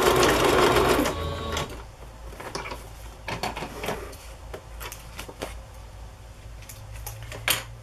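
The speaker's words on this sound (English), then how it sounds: "And now I will simply sew on the image that I selected." A sewing machine stitches a picture onto a handmade journal, its needle chattering in rapid bursts after a loud start, with short pauses between runs and no talking.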